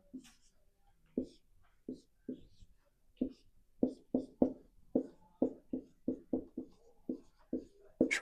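Marker or chalk strokes on a lecture board during a chemistry class, forming a series of short, distinct scratchy taps that come faster toward the end, with faint speech in the background.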